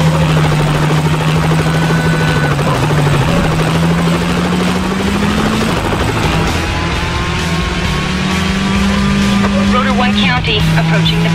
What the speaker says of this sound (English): The helicopter is airborne.